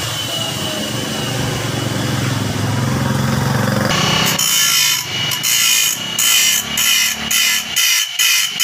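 A hand saw rasps through wood in steady back-and-forth strokes, close and fairly loud, after a few seconds of duller rumbling background noise.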